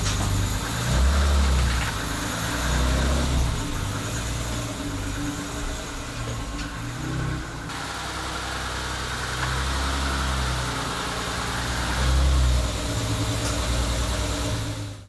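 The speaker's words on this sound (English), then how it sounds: "what I'm going to do is move the car around so we've got more space" A 1989 BMW E30 320i Touring fitted with a Scorpion exhaust runs as it is manoeuvred, giving a steady, close engine drone with a deep exhaust rumble that swells gently with light throttle throughout.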